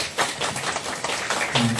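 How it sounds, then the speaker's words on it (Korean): Scattered, fairly quiet claps from a church seminar audience thank a pastor, the individual hand claps loose and uneven rather than a full ovation. "수고하신 우리 강혜수 목사님께 박수 한번 보내주세요"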